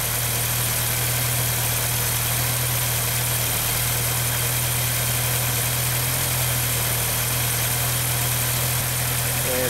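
A Volkswagen Rabbit engine with CIS fuel injection idling as it warms up, giving a steady, loud, even drone with a strong low hum and no change in pace.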